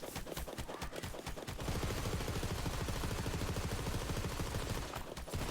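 Pestilence radiation gun from Borderlands 3 firing in a fast, steady automatic burst, rapid evenly spaced shots running for several seconds at moderate loudness with no voices over it.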